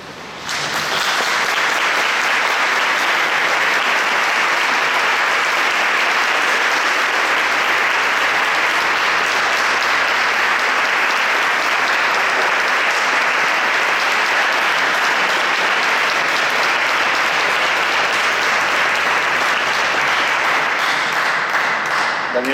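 A church congregation applauds at a Mass welcoming a new parish priest in Íllora, Spain. The clapping is loud, dense and sustained for over twenty seconds, filling the church evenly with no talk above it.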